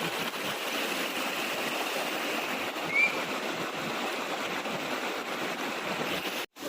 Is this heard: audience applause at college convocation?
no